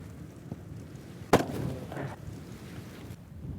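A single sharp, loud blast from a large bomb that booms briefly and rumbles away over a steady low background noise.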